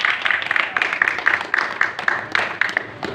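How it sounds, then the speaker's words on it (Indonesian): A church congregation applauds after a sermon on the resurrection of Jesus, with steady, dense clapping that stays loud and continuous throughout. "Tepuk tangan buat dia."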